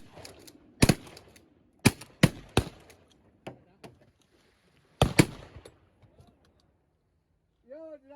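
Several sharp shotgun blasts ring out during a goose hunt over water, with a double shot near the start, a quick run of three, then a close pair later, with faint talk and a brief goose call at the end.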